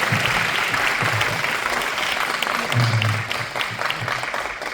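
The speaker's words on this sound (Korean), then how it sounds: "오늘 강의해 주신 청장님들 박수 부탁드리겠습니다." Warm, sustained applause from an audience at a Korean government agency lecture event for the next generation of overseas Koreans, steady clapping filling the hall with a few low voices underneath.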